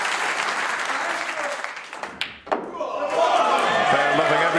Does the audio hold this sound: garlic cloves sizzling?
no